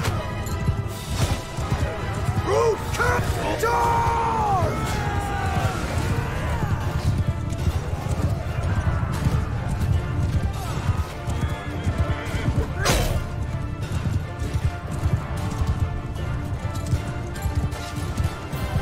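Horses in the medieval video game Mount & Blade 2 Bannerlord whinny and neigh amid clattering hooves and battle crashes, a loud continuous combat din with a sharp impact partway through, while a player talks over it.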